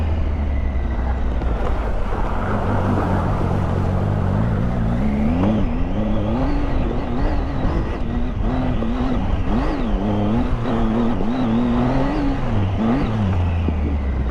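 Triumph Tiger 800 XCA motorcycle ridden off-road, its engine rising and falling in repeated revs over steady wind buffeting the microphone, loud and close.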